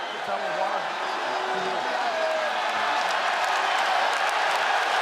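A sold-out crowd at Coca-Cola Arena at a PFL fight, Usman Nurmagomedov vs Paul Hughes. The crowd makes a steady, broad roar with scattered shouts, under continuous commentary.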